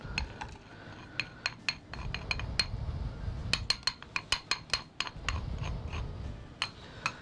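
A spoon scoops loose tea leaves out of a container with a scatter of light clinks and taps at irregular intervals, over soft rustling and scraping, close and fairly quiet.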